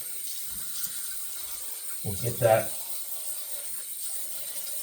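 Hot water running from a tap into a sink during a shave, a steady faint stream with a brief louder splash near the middle as someone speaks a few words.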